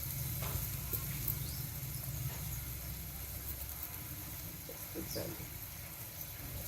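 Ginger garlic paste and turmeric sizzle softly in a pot over a wood-fired stove while being stirred, a low steady fry with occasional scraping, faint and continuous.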